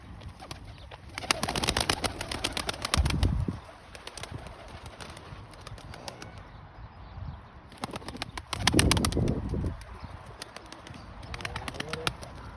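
Pigeons flap their wings in noisy bursts as they take off and fly nearby, with soft cooing and outdoor ambience between flurries.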